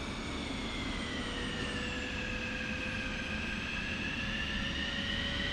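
A simulated F-16 jet engine spools up during start-up in the DCS flight game, a steady roar with rising whining tones that climb gradually and hold, continuous and unbroken, with no voices.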